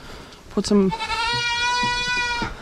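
Sheep on a ranch give a long, clear bleat near at hand, following a brief bit of a man's speech.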